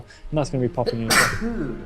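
Someone commentating a game tournament lets out one sharp, loud sneeze close to the microphone, bursting in just after he speaks, with more talk around it.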